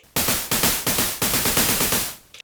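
Snare fill programmed on an Elektron Digitone for a Streets of Rage 2 track remake, a run of loud, noisy, rapid hits in a driving rhythm, alone with no voices, ending abruptly.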